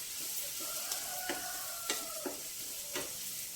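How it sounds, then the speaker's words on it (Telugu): Onion and broad beans frying in a pan, a steady soft sizzle with several short scraping strokes of stirring spread through, close by, with no talk. "ఉల్లిపాయ కొంచెం వేగాలి"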